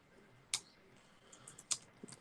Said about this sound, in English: Okay, I just type it here in order to avoid